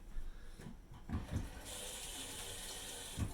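Water runs from a tap at a sink during hand washing in a home kitchen, a soft steady stream with a few low splashes and bumps, heard alone without speech.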